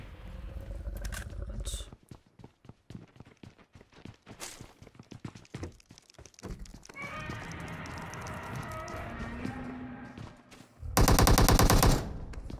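Video game gunfire crackles in scattered bursts amid footsteps and other game sounds, ending in a loud, dense burst of automatic fire.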